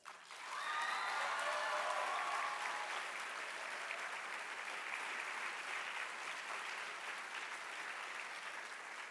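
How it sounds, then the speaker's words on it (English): A graduation audience gives a performance group a sustained, even round of applause, heard from some distance, that holds steady for several seconds after a brief swell at the start. "Let's give them another round of applause."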